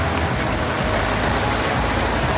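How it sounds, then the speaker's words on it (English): Steady rain falls at sea on a sailboat during an ocean crossing, a dense, even hiss of drops on the deck and water with no break and no voices. "It's a bit of rain out there."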